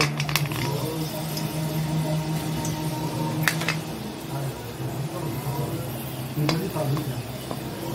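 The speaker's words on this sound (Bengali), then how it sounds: "তেলে একটু মেথি ফোড়ন দেবো" Fenugreek seeds sizzle in hot oil in a pan, a continuous soft crackle nearby. Occasional clinks of a utensil against the pan cut through, with a low hum underneath.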